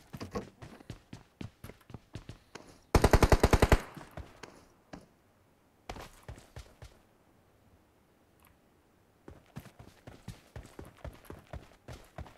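Rapid automatic gunfire in the battle royale game PUBG Mobile bursts out loudly for about a second amid a steady patter of in-game footsteps and scattered single shots, with no voices.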